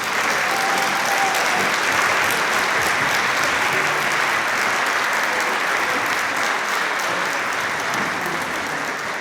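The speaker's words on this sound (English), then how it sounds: "please give Mr. Doug Reichenfeld a huge applause" A large crowd at a high school strings festival concert applauds loudly and continuously, a dense even wash of clapping that holds steady throughout.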